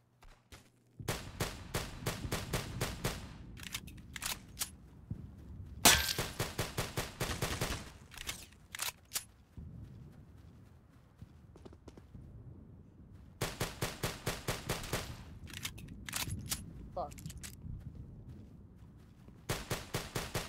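Rapid bursts of pistol shots crack out in dense volleys during a video game pistol fight, loud and close, with short pauses between clusters of shots and no talking.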